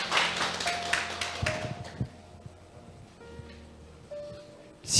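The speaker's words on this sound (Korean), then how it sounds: "큰 박수 부탁드리겠습니다" Audience applause for an author at a senior welfare center lecture on filial piety: a dense patter of claps for about two seconds that thins and fades, with a faint steady hum underneath.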